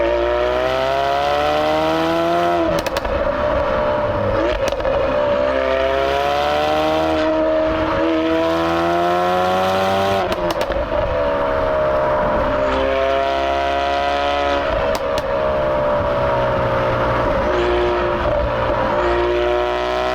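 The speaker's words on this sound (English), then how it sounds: "let's put my foot down and find out what it's like to have fun" A Ford Focus RS accelerating hard along an open road, its engine note climbing steadily through the gears with brief dips at each shift, loud and continuous from inside the car.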